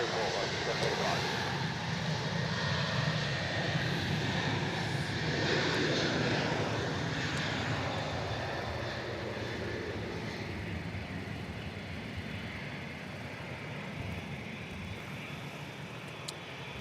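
A Qantas airliner departs Melbourne Airport, its engines a broad, sustained roar that swells and then slowly fades as the jet moves away, with radio chatter faintly underneath.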